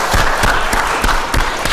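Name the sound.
applause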